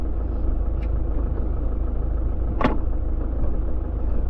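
A truck drives straight across a field loaded with boxes for bees, giving a steady low engine rumble throughout with a brief knock or clunk partway through.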